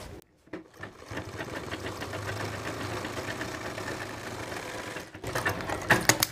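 A sewing machine stitches a trouser belt in one steady, close run of rapid mechanical whirring that stops briefly near the end and then restarts, with no talk.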